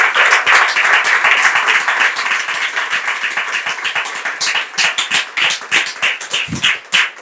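A studio audience on a French television talk show claps to encourage a guest, giving sustained, loud, even applause that fills the whole stretch, with a brief voice near the end.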